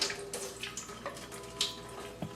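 Water splashing and trickling as it is poured out of a countertop water filter housing, a soft, steady wet wash with a few brief louder splashes.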